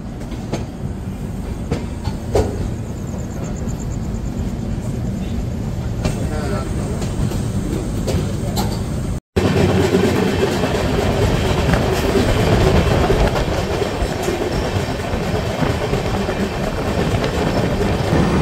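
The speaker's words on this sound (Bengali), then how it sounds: "এই 1:08 আমাদের ট্রেন কিন্তু রানাঘাট স্টেশন ছেড়ে বেরিয়ে যাচ্ছে।" The 13115 Sealdah–Jalpaiguri Road Humsafar Express pulls out of Ranaghat station on its first commercial run, a steady rumble with rhythmic wheel clatter from on board that stays loud throughout, with a brief dropout midway and some faint voices.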